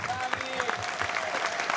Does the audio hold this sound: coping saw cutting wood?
no